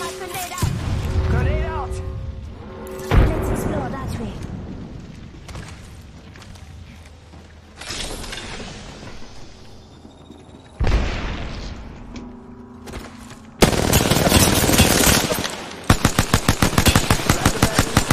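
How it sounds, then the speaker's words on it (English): A thermite grenade goes off in the Apex Legends video game amid loud bursts of automatic gunfire and several heavy booms, with a player's voice talking in between. "Thermite grenade out."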